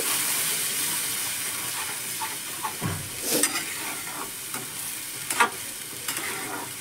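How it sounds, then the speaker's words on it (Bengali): Spoon stirring a yogurt and besan (gram flour) mixture in a hot pan, a steady sizzling hiss with soft scraping strokes and a few louder clinks, close and continuous with no talking. "এটাকে আমি ভালো করে নেড়ে চেড়ে মিশিয়ে নেব।"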